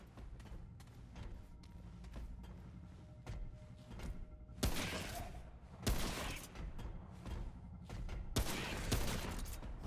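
Gunfire in the Remnant: From the Ashes video game, several loud bursts of shots cutting through quieter ambient game sound, with a few sharp impacts between them.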